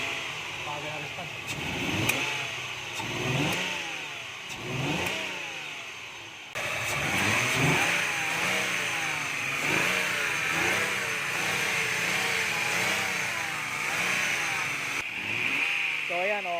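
A tuned Mazda Lantis Type-R V6 engine revs up and down repeatedly at close range, a loud, rough idle swelling into sharp throttle blips, while people talk over it.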